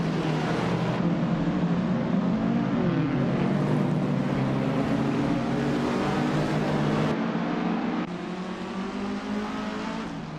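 Engines roar together as race cars launch at the start of a rallycross race at Montmelo in a video game, including a classic 1971 Datsun 510, a dense, continuous revving drone throughout.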